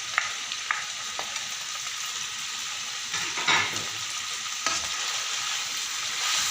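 Onion and tomato are stir-fried with mustard seeds for karela chicken, a continuous close sizzle broken by a few sharp spatula knocks and stirring scrapes.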